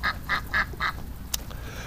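Ducks in a pen give four evenly spaced, nasal quacks close by, followed by a short sharp squawk and quiet background.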